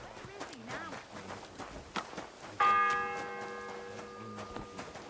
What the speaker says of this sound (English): The 4th bell.